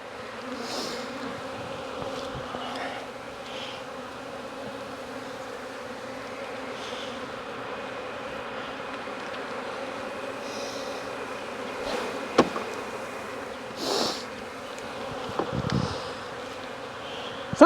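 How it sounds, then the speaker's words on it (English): Honey bees buzzing in a steady, dense drone during a hive check in Jacksonville, Florida, a continuous hum with a few brief knocks and thumps from handling the frames. "Every bee."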